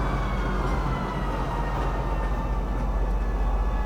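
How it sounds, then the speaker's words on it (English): A metro train in the Star Citizen video game arrives at a station with a continuous loud rumble and rolling noise, steady throughout with no talk. "Now arriving, Metro Center. Please watch your step when disembarking the train."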